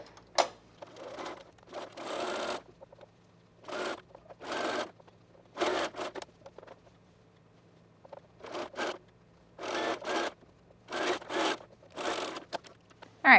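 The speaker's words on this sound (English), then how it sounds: "now let's sew our seam" A sewing machine stitches a dress seam in short, separated runs of mechanical whirring, close and moderately loud, over a faint steady hum, with pauses between bursts.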